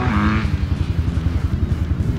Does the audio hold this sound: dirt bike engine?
yes